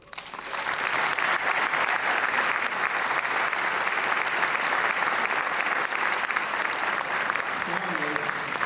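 A large crowd applauding steadily at a marching band announcement, loud and sustained clapping that swells in quickly and holds at a constant level.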